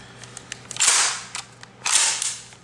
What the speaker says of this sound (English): you can hear that firing pin click